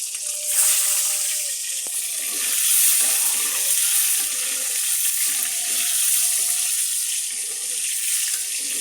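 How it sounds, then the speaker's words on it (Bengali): Eggs frying in a pan for a Bengali chana dal and egg coconut curry, a close, steady hiss of spitting oil swelling and easing in waves, with a few faint clinks. "প্রথমে ডিম ভেজে নিই।"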